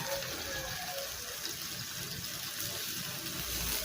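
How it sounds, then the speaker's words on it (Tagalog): Fish sauce pours into a cooking pot of sautéed chayote with sardines and glass noodles, a faint, soft liquid trickle over low kitchen background noise. "Fish sauce. Lagyan natin."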